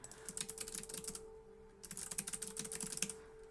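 Fast bursts of typing on a computer keyboard, keys clicking in quick irregular runs with a brief pause midway, close and fairly quiet, no one talking.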